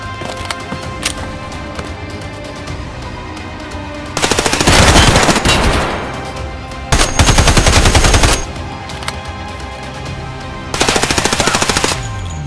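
Machine gun fire in the video game Escape From Tarkov comes in three loud, rapid sustained bursts of automatic shots, each lasting one to two seconds, over a quieter background between them.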